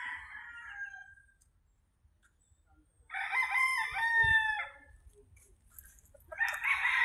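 Young roosters, stags, crow loudly and close, one call fading at the start, a full crow in the middle and another beginning at the end, with quiet farmyard gaps between.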